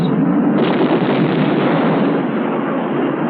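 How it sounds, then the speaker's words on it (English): Flat-nosed bombs detonate in a 1963 US Air Force tactical weapons effects test, a loud sustained roaring blast rumble that fills the whole clip without any voices. "Rockets. Flat-nosed bombs. 750s."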